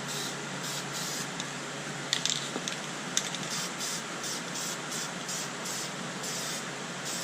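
Spray paint is applied as a final coat over interior plastic, making a steady, close hiss with a few short breaks and faint clicks throughout.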